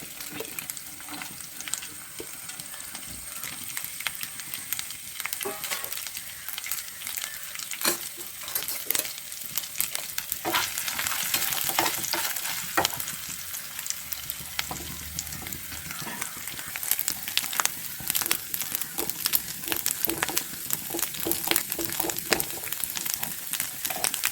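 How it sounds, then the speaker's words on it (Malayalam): Finely chopped coconut pieces frying in ghee for rice and moong dal kheer, a continuous crackling sizzle with frequent stirring scrapes and clicks, close and steady throughout. "അങ്ങനെ അരിഞ്ഞെടുത്തത് വറുത്തെടുക്കുക നെയ്യിൽ"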